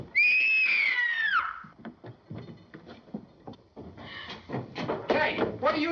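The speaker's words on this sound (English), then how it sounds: "What made you scream?" A woman screams aboard a ship in a classic crime film, one loud, high, sustained cry that slides down in pitch and cuts off. Scuffling and movement sounds follow.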